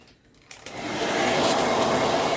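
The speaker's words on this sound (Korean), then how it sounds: "그래서 뜨거운 바람으로 열을 주시는 거예요." After a brief quiet moment, a hair dryer switches on and blows hot air with a steady, loud whooshing roar up close, heating foil-wrapped hair during hair coloring.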